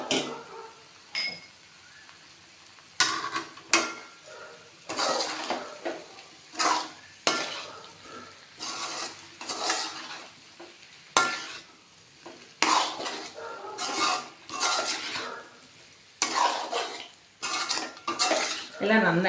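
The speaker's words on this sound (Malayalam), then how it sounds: "എല്ലാം നന്നായിട്ട് ഇളക്കി യോജിപ്പിക്കണം, മിക്സ് ചെയ്യണം." Half-fried chicken stirred and mixed in a pan for chilli chicken, with repeated metal utensil scrapes and clinks against the pan over a soft sizzle, coming in uneven bursts throughout.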